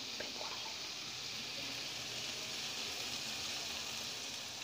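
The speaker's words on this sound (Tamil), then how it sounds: "தண்ணி கொஞ்சம் ஊற்றி கொஞ்சம் வேக வச்சிடலாம்." Water poured into a pan of chicken with garam masala while cooking Indian-style chicken pasta, a steady broadband pouring rush that runs continuously at moderate level with no talk.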